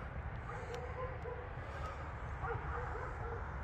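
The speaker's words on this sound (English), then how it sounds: "Got a little mutt barking now." Small dog barking and yipping somewhere off at a distance outdoors, a few faint repeated yaps under steady background noise and wind.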